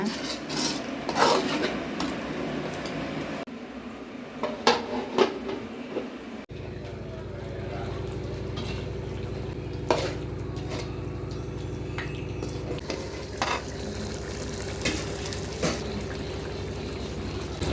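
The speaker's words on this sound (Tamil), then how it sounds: "நல்லா மசாலாவோட கலக்கி விட்டுக்கோங்க." Chicken tossed with masala in a pan for pudhina chicken gravy, with scraping and rubbing stirs and soft clatter over a low steady cooking hiss, close and moderately loud with no speech.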